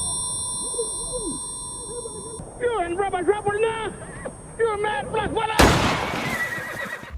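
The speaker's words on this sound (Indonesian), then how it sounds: "Sam menembakkan peluru ke arahnya dan mengenai leher Harry March yang membuat ia terlempar keluar." A rifle gunshot from the 2017 film Sweet Country cracks out as a single loud, sudden blast, following horse whinnies and talk in the scene.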